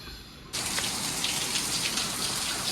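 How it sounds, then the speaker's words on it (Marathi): Steady, dense rain pouring down, beginning abruptly after a brief quiet moment and continuing as a loud, even hiss of drops. "आता आला पाऊस झाला मोठा"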